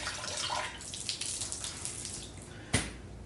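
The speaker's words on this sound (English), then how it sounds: "There's extra water. We throw it out right here." Leftover water dumped out of a car wash resin container, a short rushing pour and splash close by, ending in a sharp knock near the end.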